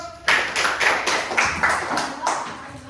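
A classroom group of students breaks into applause for classmates' recycled-material projects, several bursts of quick hand claps in a lively rhythm, close and moderately loud, with faint chatter underneath.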